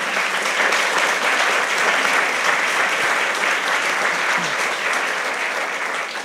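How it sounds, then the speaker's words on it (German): An audience at a book premiere debate event applauds steadily, with dense, even clapping that holds at a constant level from start to finish. "Danke, Nina, Applaus für dich."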